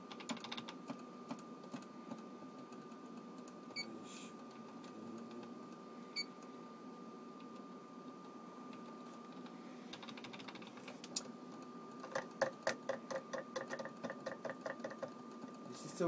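Buttons clicked on an EVS broadcast replay controller, scattered light taps at first, then a rapid run of repeated clicks over a faint steady electronic hum.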